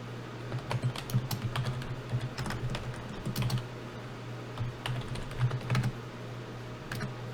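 Someone types a new password on a computer keyboard, giving quick, close clicks and clacks in irregular bursts with short pauses between them.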